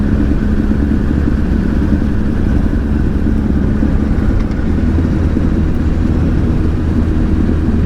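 A 2007 Honda CBR1000RR Fireblade sportbike being ridden, its engine a loud continuous roar with heavy wind rush, steady and unbroken throughout.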